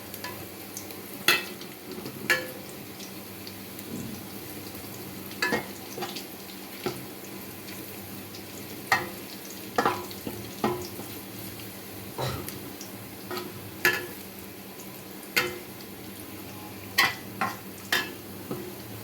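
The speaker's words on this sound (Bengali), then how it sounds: "পেস্টটা একটু ব্রাউন কালার করে ভেজে নিতে হবে। আমি এর মধ্যে জিরা অ্যাড করলাম।" A cumin-laced spice paste browns in a silver pot on an electric stove, with scattered clinks and scrapes of stirring over a faint, quiet sizzle.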